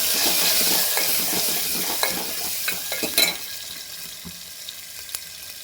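Onion and cumin tempering frying in oil in a village kitchen, a continuous sizzle with scattered spoon scrapes and clinks against the pan as it is stirred, no voices.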